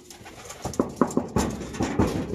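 Pet pigeons coo close by in a short run of soft, throaty pulses, about half a dozen in quick succession, with no talking.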